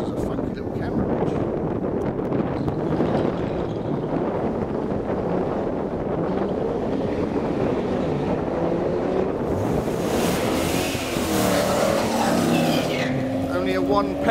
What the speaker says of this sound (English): just a one peg burnout there, didn't spin up this side.